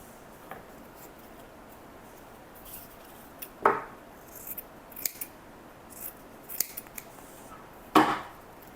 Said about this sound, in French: Je vais découper le filtre afin de vérifier qu'il y a bien les 6 couches à l'intérieur.